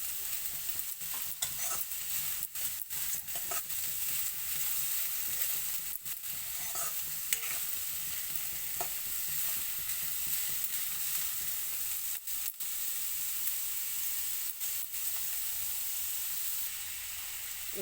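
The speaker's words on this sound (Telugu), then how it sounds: "ఇదిగోటండి, ఇది ఫ్రై అవుతుంది." Shredded cabbage and grated carrot frying in a pan, a continuous quiet sizzle and hiss with intermittent clicks and scrapes of stirring throughout, no voices.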